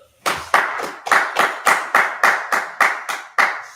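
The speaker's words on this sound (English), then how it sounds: "Clap it up." Sharp, loud hand claps at a Bible class gathering, about twelve separate claps in a steady beat, each ringing briefly in the room with no talk over them.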